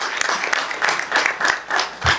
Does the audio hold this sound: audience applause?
yes